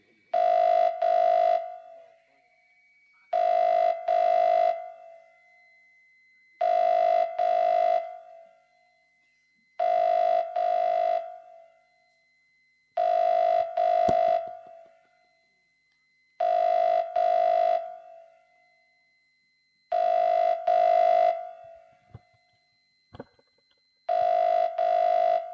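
A telephone rings after a number is dialed, eight long double-pulse rings repeating at steady intervals, clear and alone with no talk over them.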